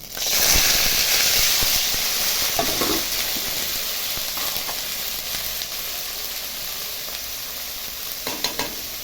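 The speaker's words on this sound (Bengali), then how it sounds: "তেল দিয়ে দিচ্ছি, একটু কালো জিরা ফোড়ন দিচ্ছি, আর এই যে সিম আর গাজরটা ভাজা করব।" Black cumin seeds tempering in hot oil with flat beans and carrots frying, a loud continuous sizzle and hiss with occasional stirring scrapes, no voices.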